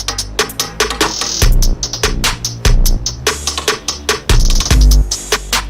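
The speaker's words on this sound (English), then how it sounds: "Giving me this crazily distorted sound from my 808." Heavily distorted 808 bass from FL Studio, pushed through a parallel distortion channel that also hits like a kick drum, plays as loud, gritty booming hits in a steady rhythm with no talk.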